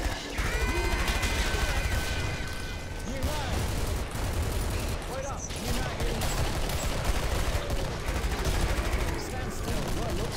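Rapid bursts of MP5 submachine gun fire crack through a co-op Killing Floor match, dense and continuous over about ten seconds, mixed with other game noise and a few faint voices.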